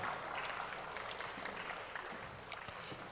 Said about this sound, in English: Let's put our hands together for Mrs. Okiri. Let's keep clapping as she comes.